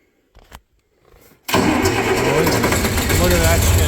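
John Deere 4020 tractor engine during restoration: a few quiet clicks and a short crank, then the engine catches and settles into a loud, steady running rumble close by.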